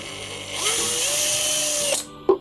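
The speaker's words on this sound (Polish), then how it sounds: "żeby po prostu chociaż to nawiercić, złapać" A power drill bores into a metal can, its motor whine spinning up and holding steady for over a second before cutting off, followed by a short metallic clink; close and fairly loud, without speech.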